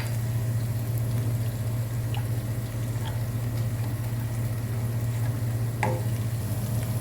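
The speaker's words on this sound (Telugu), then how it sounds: "ఇప్పుడు ఈ క్రీము గట్టిపడిందాక కలుపుకుందామండి" Milk and maida cream sauce being stirred in a pan as it thickens, a soft, steady bubbling sizzle over a low hum, with a few faint scrapes and one clearer clink of a utensil.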